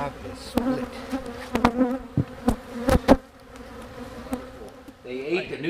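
Honeybees buzz steadily around a split hive, a close, dense drone with several louder passes as individual bees fly near, alone and without talk.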